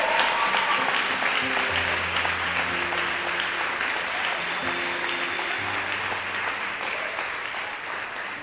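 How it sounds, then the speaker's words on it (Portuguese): A church congregation applauding with full force, sustained loud clapping that fades slightly toward the end, with sustained musical tones sounding underneath. "E é nessa hora que você pode aplaudir o Senhor com toda a tua força"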